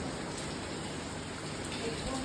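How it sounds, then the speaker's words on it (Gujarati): Continuous dense rain patter, even and unbroken, with no other sounds rising above it. "વરસાદ વરસાદ વરસાદ આ વરસાદથી કામ નથી કરવા દેતું"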